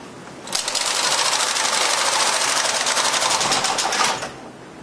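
A knitting machine carriage slides across the needle bed while knitting a ribbed baby blanket, giving a steady mechanical clattering whir that starts abruptly, holds for about three and a half seconds, then stops.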